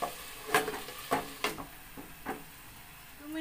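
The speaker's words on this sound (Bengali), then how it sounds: "এটাকে আমি একটু নেড়ে চেড়ে দিচ্ছি।" Hinche (helencha) greens being stirred in a cooking pan, with a few soft scraping strokes and light clatter over a faint sizzle, close and quiet, with no talk.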